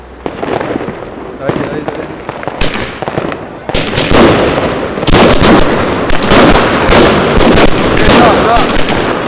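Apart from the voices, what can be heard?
New Year's fireworks exploding in Split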